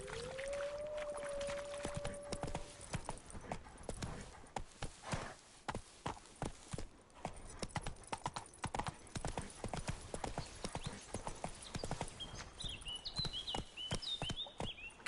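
The horse Roach's hooves clip-clopping in The Witcher 3: a steady, fairly quiet run of hoofbeats on the ground, with a brief whinny-like tone near the start and faint game sounds near the end.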